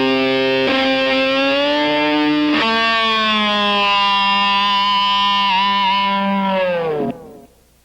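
Distorted electric guitar solo, a tapped note jumping up an octave and then bent upward on the whammy bar, sustaining as a loud, smooth, wavering squeal before cutting off near the end.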